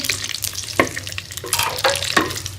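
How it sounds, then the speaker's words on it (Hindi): Onions frying in a pan with a steady sizzle, broken by several sharp scraping stirs and clatters, close and fairly loud with no voices. "हम तीनों चीज़ों को जो है फ्राई कर लेंगे। इस तरह हम प्याज डालेंगे"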